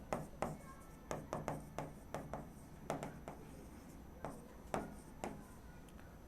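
Chalk or marker writing on a board during a commercial mathematics lesson, faint irregular taps and short scratchy strokes in uneven bursts, quiet and without talk.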